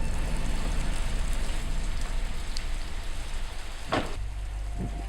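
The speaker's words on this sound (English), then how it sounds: "It's pouring the rain," Heavy coastal rain pours steadily in a Maryland soybean field, a loud constant hiss of drops close by, with a brief sharp knock near the end and no talking.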